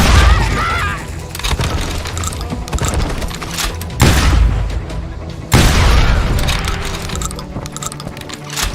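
Bursts of gunfire fill a street in the Western shooter Call of Juarez: Gunslinger, loud, repeated shots and booms coming in waves, with heavy hits near the 4 and 5.5 second marks over a dense, busy game soundscape.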